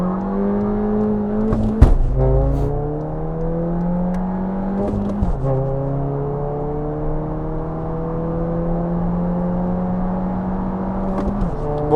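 Seat Leon FR with a DSG gearbox accelerating hard: a steady engine drone climbs in pitch, then drops sharply at each upshift with a loud popping burst, heard three times, close and with no talk.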